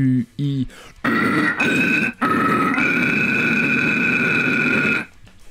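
A voice performs low, guttural vocal screams on U and E vowels, alternating in long growling bursts after a couple of short clipped grunts, close and loud with no other sound.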